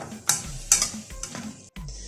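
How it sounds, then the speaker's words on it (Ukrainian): Several brief scraping stirs of a utensil in a pan of dumplings, with soft clinks between them, close by and moderately loud. "Це треба зараз гарненько перемішати"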